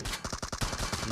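A rapid burst of automatic gunfire from a PUBG Mobile match, about eight quick evenly spaced shots in a little over a second, fairly faint and distant, with no talking.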